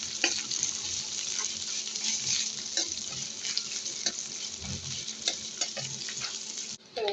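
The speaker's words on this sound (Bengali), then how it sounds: "পেঁয়াজের সাথে কাঁচামরিচটা একটু ভেজে নেব। তো এই যে আমি ভেজে নিচ্ছি।" Chopped onions and green chillies fry in a pan, a close, continuous sizzle broken by scraping stirring strokes and small clinks, with no talking.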